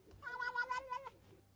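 A cat gives a single drawn-out meow, a faint one-second call with no talking around it.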